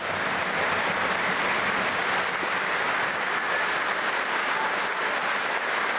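A packed hall gives a standing ovation after a speech on the reunion of Crimea with Russia, a dense, unbroken roar of clapping that holds at one loud level throughout.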